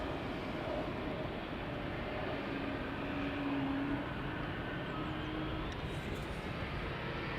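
Broad continuous jet roar of an Air Baltic airliner taxiing up at Amsterdam Schiphol Airport, a steady distant engine rumble with a faint whine, no voices.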